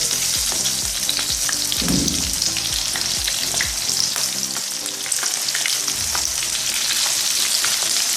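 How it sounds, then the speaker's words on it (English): Chicken sizzles steadily in hot oil, a dense crackling hiss with occasional pops and scrapes, close and continuous throughout. "It should be sizzling when you put the chicken in."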